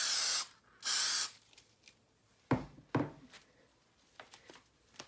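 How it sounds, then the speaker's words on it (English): Aerosol spray hissing in two short bursts onto small laser-cut wooden earring pieces, followed by soft knocks and light handling taps of wood on a surface. "And I'm just going to spray these very lightly."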